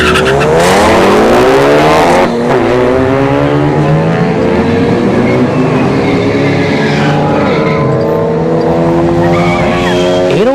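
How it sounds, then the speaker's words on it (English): A Genesis G70 and a Ford Focus launch side by side at a ShowTime Dragstrip test-and-tune drag race, with loud, close engines roaring and rising in pitch over a brief tire squeal, then sweeping onward as they accelerate away. "Got the G70 on the right lane, Genesis, and the Ford Focus on the left lane."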